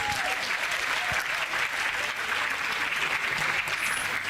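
A church congregation clapping for Jesus fills the space with dense, continuous applause from many people, steady and full, with a faint voice briefly rising above it.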